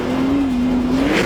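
Lamborghini Urus, 641 horsepower, accelerating hard in Corsa mode: a steady, loud engine drone climbing in pitch and rising at the end, close and continuous with no talk.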